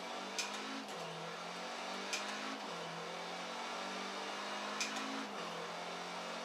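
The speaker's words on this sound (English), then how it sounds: "Engine doesn't sound too bad." An economy car's engine in the Forza Horizon racing game revs in repeated rising and falling pulls, a steady mid-low drone with brief sharp clicks of gear changes, moderately quiet and without talk.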